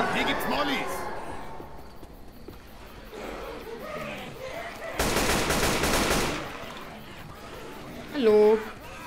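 Left 4 Dead gunfire bursts out in a dense volley in the middle, amid scattered zombie game effects, with people talking intermittently around it.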